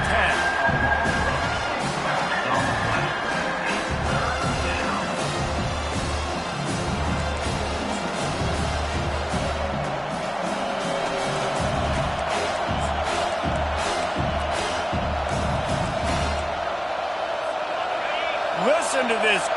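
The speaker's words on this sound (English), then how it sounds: "Listen to this crowd just shaking the girders of this place, trying to help their defense." A dense stadium crowd roars continuously during an NCAA 25 college football video game, a loud sustained wash of cheering that swells after a defensive sack, with game commentary speech running over it.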